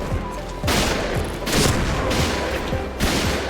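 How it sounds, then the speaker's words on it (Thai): Rapid bursts of gunfire from a first-person shooter game, Point Blank, loud and close, with several volleys of shots cracking in quick succession. "เฮ้ยใครยิงวะ"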